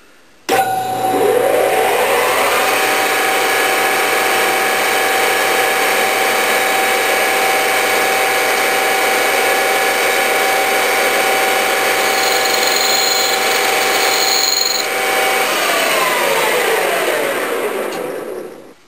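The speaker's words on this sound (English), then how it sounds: "The next step is just to put a little camphor, a 45 degree camphor," A power tool cuts a 45 degree chamfer on the edge of a performance piston crown, a loud continuous whine that spins up quickly, holds steady for about fifteen seconds, then winds down.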